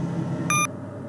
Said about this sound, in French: On entend le bruit important du moteur et après le bip